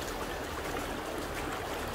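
Stream water of the Areuse rushes and burbles steadily in a dense, continuous wash, close and moderately loud, with no voices.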